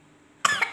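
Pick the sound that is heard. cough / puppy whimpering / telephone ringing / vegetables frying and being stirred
cough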